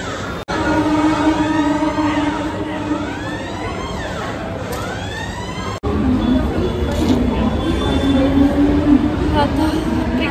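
Aboard a running metro train, a steady loud rumble fills the interior, with rising and falling electric motor whines sweeping up and down, a brief break midway, and a voice heard faintly over the noise.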